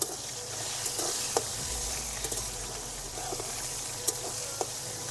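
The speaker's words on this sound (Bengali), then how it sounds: "বেশ টমেটোটা অনেকটা ভাজা হয়ে গেছে।" Chopped tomato and slit green chillies sizzle in a hot pan of oil as a base for Bengali mustard katla fish curry, a steady hiss broken by faint clicks of stirring.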